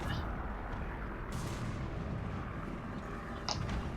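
A Chieftain Mk 3 tank's cannon fires in War Thunder, heard as heavy booming blasts over a rumbling battlefield backdrop, with a sharp crack near the end.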